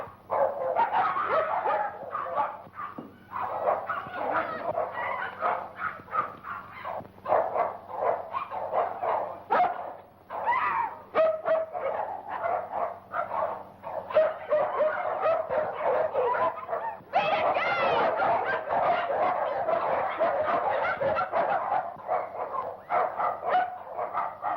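Several dogs bark, yip and whimper almost continuously at close range, loud and overlapping, like a group of caged dogs, with brief pauses between bursts and a steady low hum underneath.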